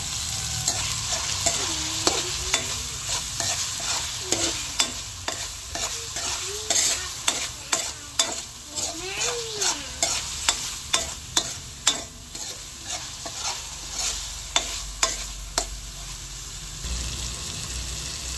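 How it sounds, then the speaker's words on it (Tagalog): Ground meat sizzles steadily in a pan while a utensil stirs and scrapes it in repeated sharp strokes over the frying, with no one talking. "ilagay ko na po itong giniling at atin na pong iginigisa."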